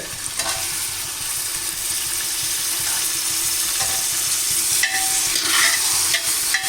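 Tomatoes being stirred into a hot frying pan for Arabian chicken madhooth, a steady close sizzle with scraping stir strokes and light clinks throughout, no talking.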